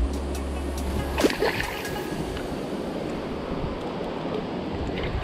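Strong wind roars and buffets steadily throughout, a dense rushing noise with a brief gust or thump early on.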